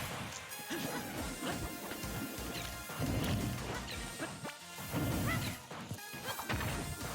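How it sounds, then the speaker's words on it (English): Super Smash Bros match between Young Link and Link: sharp crashing hit impacts burst out repeatedly amid busy game sound effects and music, loud and close, with several heavy whacks landing in quick succession. "he gets side smashed for his trouble"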